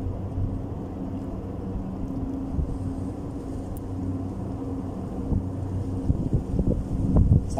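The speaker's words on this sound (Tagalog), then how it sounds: "Sarap ng hangin." Steady wind gusts buffet the microphone outdoors, roaring low over a constant hum from nearby compressor machinery. The rumble swells slightly near the end.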